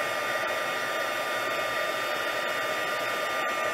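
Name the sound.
heat tool melting embossing powder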